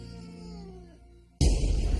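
A cat's drawn-out, tonal meow fades over the first second and a half, then a loud, harsh burst of noise cuts in abruptly close by.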